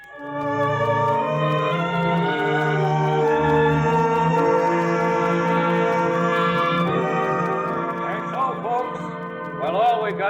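A single church bell rings in a frontier town where only a foundation and the bell stand, its repeated tolls ringing out with long overlapping resonance, and faint voices come in near the end.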